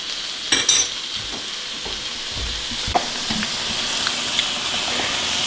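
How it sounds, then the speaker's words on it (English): Sausage sizzles steadily in a hot frying pan with vegetables, a constant close hiss broken early by a few sharp clinks and scrapes of stirring. "we can throw that sausage down there and kind of let it get fried up a little"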